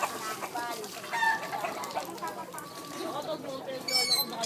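Chicken clucking with a rooster crowing, heard close amid background voices and farmyard noise.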